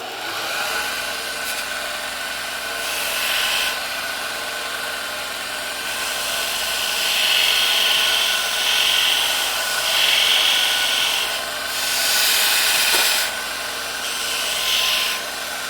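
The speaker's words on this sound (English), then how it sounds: "So kick the belt sander on here." Belt sander grinding an Easyboot Fury hoof boot, a constant whirring motor with repeated rasping bursts as the boot is pressed against the belt, several passes in a row, no talking.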